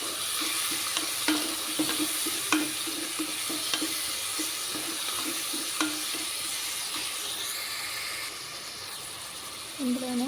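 Sliced onions with salt sizzle steadily in a pan while a spoon stirs them, giving frequent light scrapes and clicks against the metal. The sound is close and even and continues throughout.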